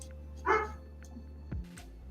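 A dog in a kitchen letting out one bark followed by a weaker, lower yip, heard at moderate distance over a steady low background hum.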